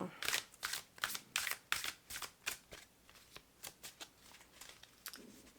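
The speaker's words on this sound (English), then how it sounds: "it's hard to shuffle on camera" A deck of tarot cards is shuffled repeatedly, a steady series of crisp riffling bursts close by, gradually softening toward the end.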